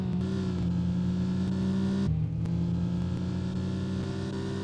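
A video game car's engine drones steadily with sustained revving and a brief drop in pitch midway, loud and continuous with no talking over it.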